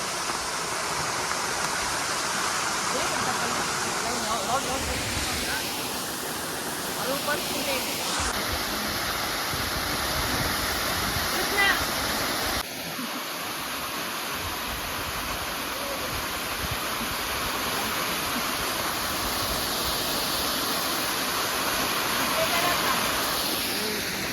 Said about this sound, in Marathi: आलो आम्ही धबधब्यापाशी जस्ट